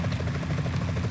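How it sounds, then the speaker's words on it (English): A helicopter flies in Metal Gear Solid 2, a steady rotor thump pulsing low and loud without pause for a little over a second, with no voices. "Is that a chopper I just heard?"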